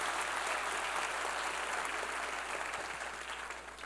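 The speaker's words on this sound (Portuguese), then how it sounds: "Vamos aplaudir ao Senhor por essa liberdade que Ele nos dá" A church congregation applauds during a sermon, a steady, dense roar of clapping that stays even and fairly distant, tapering slightly at the end.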